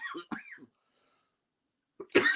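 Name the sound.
coughing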